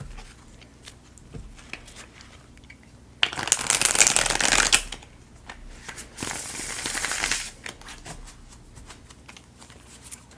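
Tarot cards are shuffled close up in two main riffling bursts with lighter card handling and soft taps between them, and no talk.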